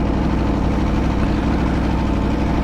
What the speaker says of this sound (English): The sound of that engine, it's got the sound of a thoroughbred pedigree racing engine